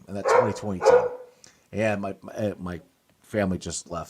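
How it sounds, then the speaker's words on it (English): A pet dog barks a few times in the background, partly masked by someone talking over it close to the microphone. "so my dog is barking and telling them to come back and pick him up."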